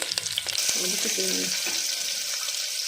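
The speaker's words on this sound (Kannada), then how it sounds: "ಈರುಳ್ಳಿ ಸ್ವಲ್ಪ ಈರುಳ್ಳಿ ಫ್ರೈ ಆಗಲಿ" Onions frying in oil with mustard seeds and curry leaves, a loud close hiss of sizzling with a few quick stirring scrapes at the start.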